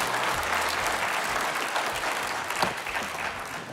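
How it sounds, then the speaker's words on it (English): A studio audience at a live morning show breaks into loud, steady applause, dense clapping filling the space without a break. "Big round of applause for the top 10."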